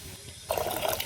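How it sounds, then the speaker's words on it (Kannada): Water gushes into a container on a poultry farm, filling it for washing the birds' drinkers; the flow starts abruptly halfway through and runs on steadily and close. "ನೀರು ತುಂಬಿತು"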